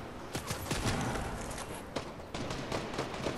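Video game gunfire crackles in scattered bursts of sharp shots at moderate distance, irregularly spaced over a noisy background.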